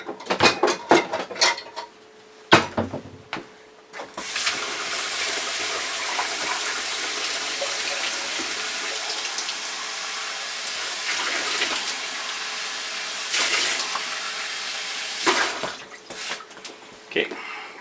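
A kitchen tap pours lukewarm water into a mixing bowl for sourdough bread, a steady loud rushing stream lasting several seconds, framed by clinks of dishes and handling noises, with a person talking before and after.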